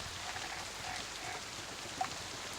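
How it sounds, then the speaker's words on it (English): Rain ambience effect from the Fantasy Grounds tabletop game software, a steady soft hiss of falling rain at low level with one brief faint tick near the end and no talking. "I like the sound of rain"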